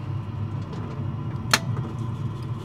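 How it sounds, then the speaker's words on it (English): A de Havilland Comet beginning its taxi run on two running jet engines: a steady low engine rumble throughout, broken once by a single sharp click or clunk partway through, no voices. "We'll start our taxi run on two engines"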